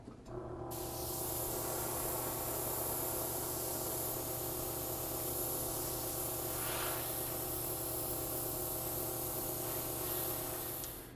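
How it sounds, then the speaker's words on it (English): An airbrush sprays gray weathering paint onto the sides of a model locomotive, giving a continuous close hiss that begins abruptly and holds steady for about ten seconds, with a faint mechanical hum underneath. "And what I'll also do is spray a little gray on the sides."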